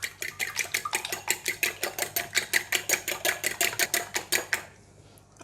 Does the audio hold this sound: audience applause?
no